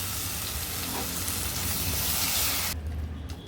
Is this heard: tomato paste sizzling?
yes